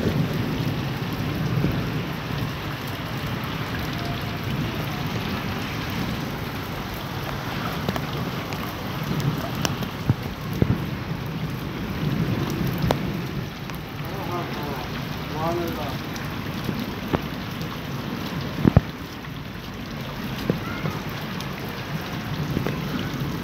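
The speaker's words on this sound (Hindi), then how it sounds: "बारिश में बारिश स्टार्ट हुई है" Steady rain pours down continuously in Mirpurkhas after 45-degree heat, with a low rumble underneath and a few sharper spatters now and then; no voices are heard.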